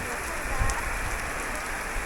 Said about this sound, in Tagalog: Yan o, last ng ulan ngayon.